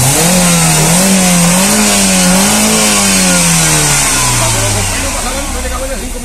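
A petrol car engine with 16 valves, freshly bought and being prepared as a gift, revs up and holds a loud, wavering pitch, then winds down toward the end while someone talks over it.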